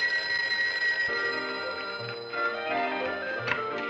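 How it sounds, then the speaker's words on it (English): An old-fashioned telephone bell rings steadily in a home, a sustained bright metallic trill that carries on for several seconds, loud and close, with faint background sound underneath. "The phone hasn't stopped ringing all morning."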